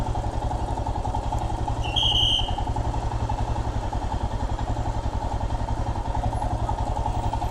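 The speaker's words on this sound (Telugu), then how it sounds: "బైక్ వెళ్ళా, బైక్ పోతుంది" A motorcycle engine drones loud and steady at close range with an even, rapid throbbing pulse, and one brief squeal cuts through partway along.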